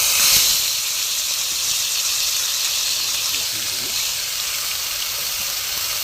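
Fish frying in hot oil gives off a steady, close hiss and sizzle as spices go into the pan, continuing evenly with no clear speech.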